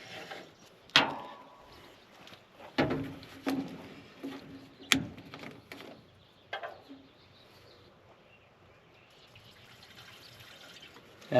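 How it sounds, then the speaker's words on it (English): Water splashes and drips into a container in a few sharp bursts, followed by a quieter, steady trickle near the end. "Let's go ahead and fill this thing full of water."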